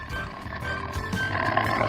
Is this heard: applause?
no